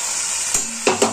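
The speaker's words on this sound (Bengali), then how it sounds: "এবার গুঁড়ো মশলাগুলো দিয়ে দিলাম" Ground spices go into onions already fried in oil for a fish curry. A steady sizzling hiss plays close up, broken by a few quick scraping stirs.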